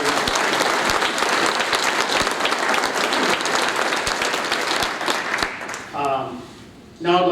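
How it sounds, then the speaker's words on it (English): Audience applause at an economic development awards breakfast, a dense, steady wash of many clapping hands that fades out near the end, where a voice briefly speaks. "please recognize these companies if I can get a round of applause"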